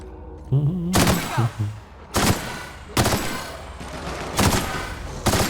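Gunfire from a gun in the video game The Outer Worlds, with five loud, sharp bursts spaced about a second apart, each trailing into a rumbling decay, after a brief musical tone at the start.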